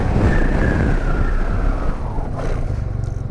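A SYM Maxsym TL 508 scooter accelerating, its engine note rising in a smooth drone that swells and then eases, close and loud with rushing wind around it.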